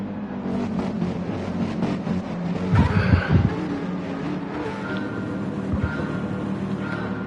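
Race cars in a racing video game pull away together at the start of a race as the lights go out, a dense, steady blend of engine drone with a louder swell of revving midway through, no voices.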